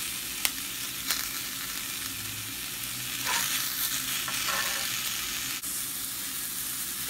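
Onions sautéing in a pan with turmeric and salt for potato masala give a steady, close sizzle and hiss, broken by a few sharp scrapes and taps of stirring.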